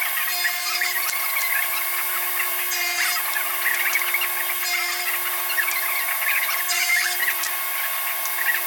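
A power tool cuts wood for a gift box, a steady high whirring hum that swells into rough, raspy cutting bursts about every two seconds, with no talk.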